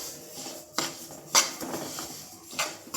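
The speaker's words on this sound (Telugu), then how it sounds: "లైట్గా నువ్వుల్ని లైట్గా వేంపుకోవాలి" Sesame seeds for laddu dry-roast in a pan on a stove set to high, with a spoon scraping and clinking against the metal in several short, separate strokes over light rustling.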